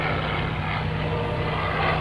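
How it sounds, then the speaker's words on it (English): A Yak-9 warbird with a V12 engine at a World War II weekend airshow, producing a loud, continuous engine roar with a steady low throb, close by and heard alone. "Get your camera to get a single shot of Sean Carroll and his Yak-9 airplane."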